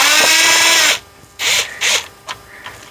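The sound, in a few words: power driver removing screws from instrument cluster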